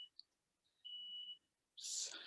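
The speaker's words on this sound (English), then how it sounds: "there's an alarm going off at home" A smoke alarm going off at home gives a few faint, short electronic beeps followed by a louder, harsher blast, heard at a distance with no talking.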